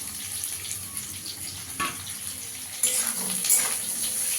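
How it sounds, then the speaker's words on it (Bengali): Tap water runs steadily while a mixer grinder jar is washed in a kitchen sink, a continuous close hiss that swells louder partway through. "মিক্সির বাটিটা ধুয়ে একটু জল দিয়ে দেবো।"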